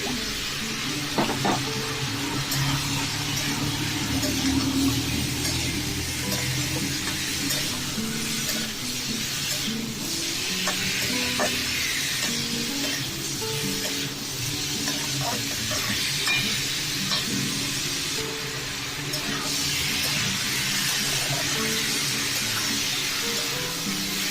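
Soaked masoor dal with ripe papaya sizzling and being stirred in a pan, continuous frying hiss with frequent utensil scrapes and clinks against the pan, close and with no talking.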